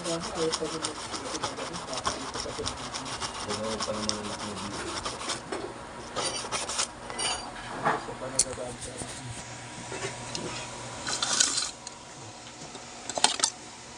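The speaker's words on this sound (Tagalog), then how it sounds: "lihain lang natin." Hand filing on a part of an Eastman cutting machine, repeated rasping metal strokes in an uneven rhythm, close and moderately loud, with someone talking at intervals.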